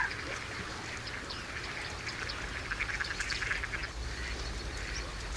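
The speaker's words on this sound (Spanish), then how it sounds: "especies comunes, como los ánades reales, unos asiduos visitantes de las lagunas españolas" Mallard ducks quacking at a Spanish lagoon in Villafáfila, a dense chorus of overlapping calls over steady low background noise, moderately distant, with no one speaking.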